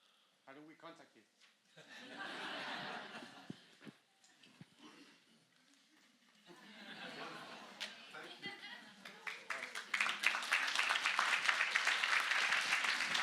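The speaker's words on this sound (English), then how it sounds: "keep the applause going for David Horne" Applause from a start-up day audience swells in waves, first mixed with chuckles and murmured chatter, then building into loud sustained clapping that dominates the final seconds.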